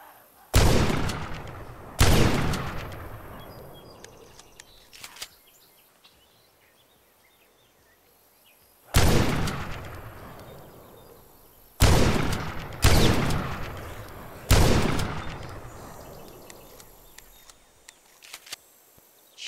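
Shotgun blasts in a first-person video game, about seven loud booming shots spaced irregularly, each with a long decaying tail, with quiet gaps between them.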